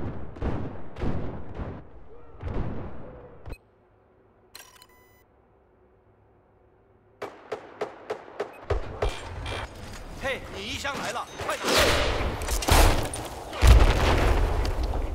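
Rocket blasts and gunfire in a video game match, sharp repeated booms in bursts at the start, a near-silent gap, then dense volleys of explosions and shots, with someone talking over parts of it.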